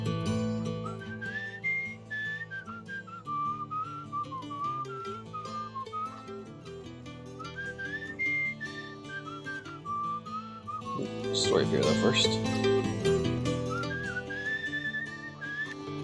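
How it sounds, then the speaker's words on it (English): A person whistles a wandering melody in a game setting, clear and sustained over a busy music background, with a brief louder burst near the end and a few spoken words. "I keep messing up the whistling."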